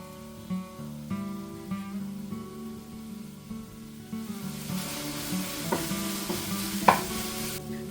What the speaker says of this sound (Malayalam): ആ ഒരു ചിക്കൻ ആദ്യം ഒന്ന് ഫ്രൈ ആക്കിയിട്ട് എടുക്കുക